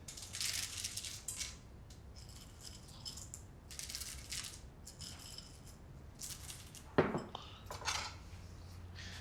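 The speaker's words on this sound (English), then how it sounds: "And mix it to dilate the chocolate." Chocolate is stirred into boiling cream in a pan. Faint clinks and scrapes of a utensil against the pan come in irregular bursts, with one sharper clank near the end and no talking.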